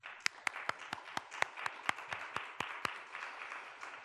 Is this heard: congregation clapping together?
yes